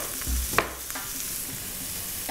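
Diced chorizo sausages sizzling and crackling in a hot pan, a steady close frying hiss with a sharp spit near the start.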